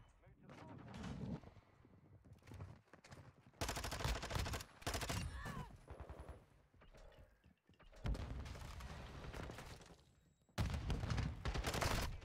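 Bursts of automatic Vaznev rifle fire in Modern Warfare 2, several loud sustained volleys separated by short quieter gaps, with game voices in between.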